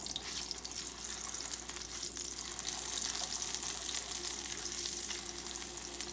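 Birria tortillas fry in meat juice and grease in a hot pan, giving a continuous loud, crackling sizzle with occasional sharper pops throughout, and no voices.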